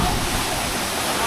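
A waterfall pours down in a dense, unbroken roar that sounds close and loud, with no pauses.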